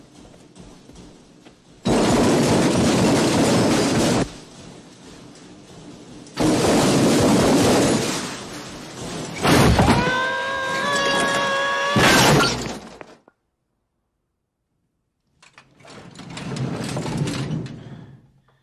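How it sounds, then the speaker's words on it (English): A heavy metal tool chest tumbles down a flight of stairs in a few loud crashing, clattering bursts, with metallic rattling and ringing tones, separated by short pauses and ending in a final thud before quiet. "That was the sound of a tool chest falling down the stairs."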